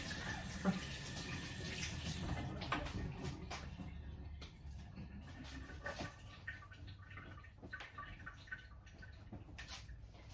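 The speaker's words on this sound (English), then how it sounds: "Just going to give my hands another wee wash, guys" Tap water running over sticky hands while washing off sausage meat in a kitchen sink, a steady close splashing flow that fades slightly toward the end, with small drips and clatters.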